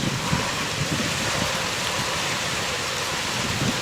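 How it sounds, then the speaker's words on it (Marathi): Heavy rain pouring steadily during a storm, a dense continuous wash of noise with no pauses or voices. "पाऊस हा जोरदार चालू आहे"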